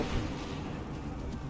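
Musket volley fired on command by a line of colonial-era soldiers in Assassin's Creed III, a brief dense crackling roar at moderate distance with no clear separate shots.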